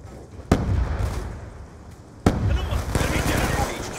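Two sharp blasts, a frag grenade and concussion explosions, in Call of Duty Black Ops II multiplayer, each followed by rumbling debris and scattered gunfire, close and loud, with game voices calling out in between.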